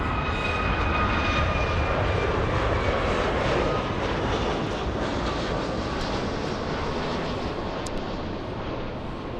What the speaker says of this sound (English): United coming in. This one I'm sure coming in from Newark. No, from Chicago O'Hare.